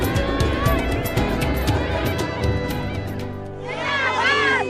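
A large crowd gathered at Prime Minister Modi's public rally in Pithoragarh, Uttarakhand, producing a steady roar of many voices with shouting and cheering, swelling again near the end.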